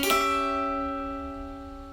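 One diminished chord on a dulcimer rings out after a bright attack and decays slowly over two seconds, alone and fairly close.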